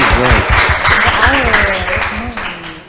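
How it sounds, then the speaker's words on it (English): An audience applauds a secondary school debate team at a student debate, a steady wash of clapping with voices sounding over it throughout, fading slightly toward the end. "Ladies and gentlemen, please give them a big round of applause."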